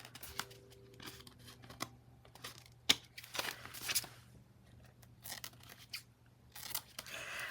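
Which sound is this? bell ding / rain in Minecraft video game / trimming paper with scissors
trimming paper with scissors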